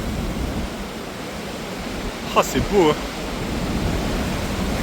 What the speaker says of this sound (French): Oh les vagues. La puissance.